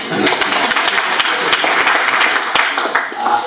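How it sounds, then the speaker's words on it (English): A church congregation applauding, with steady dense clapping from many hands filling the room loudly throughout, tapering slightly near the end. "You can clap for us."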